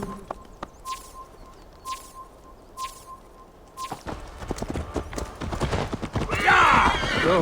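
Hooves clop steadily along with a faint repeating chime in the Assassin's Creed Valhalla video game, and the beat grows busier until a horse lets out a loud, close neigh at the end.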